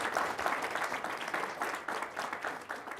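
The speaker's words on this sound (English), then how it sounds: "let's give him a major round of applause" Audience applause at a special community event, dense steady clapping from a crowd that swells and holds for several seconds with no voices over it.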